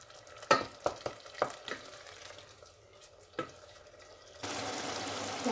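Tomato masala for aloo baingan sabzi is stirred in a pan, a few sharp spoon scrapes over a low sizzle, then a louder steady hiss as water is poured in near the end, with no talking.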